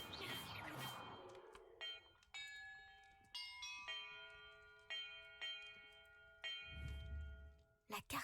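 Bells in the video game Hogwarts Legacy ring one after another in a sequence, each bright, sustained strike overlapping the last, with some noise at the start and end.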